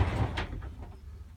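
Glass shower doors of a neo-angle shower in a 2020 Forest River Cherokee Alpha Wolf 26RL travel trailer slide along their roller track, a short rolling rumble followed by a light knock, close and alone.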